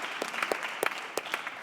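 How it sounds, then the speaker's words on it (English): Sparse, scattered hand claps from a small audience at a panel discussion, a handful of distinct claps spread across a moment, fairly close and light, without talking. "clap for that"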